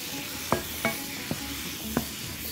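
Shrimp and rice sizzling in a pan while a utensil stirs it, giving four sharp scrapes and clicks over a steady, soft frying hiss.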